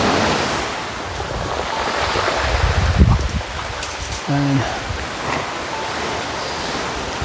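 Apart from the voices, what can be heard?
strong sea waves crashing on shore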